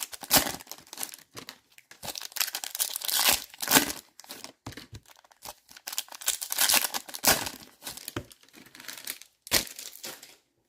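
Foil Upper Deck hockey card packs being torn open, bursts of crinkling and ripping wrapper noise repeating across the stretch, close and crisp with short pauses between tears.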